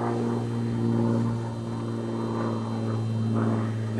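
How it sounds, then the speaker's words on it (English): Airplane flying overhead, a continuous droning engine hum with steady low tones, fairly loud and unbroken for the whole stretch with no voices. "Plane flying."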